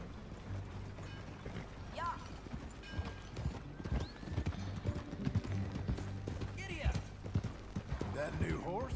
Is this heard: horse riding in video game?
yes